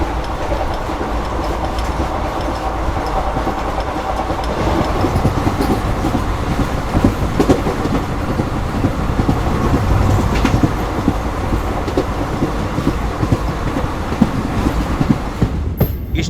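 An Intercity Express running from Somnath to Ahmedabad, a continuous loud rumble of carriage and wheels with faint rhythmic clatter, heard from onboard without talk.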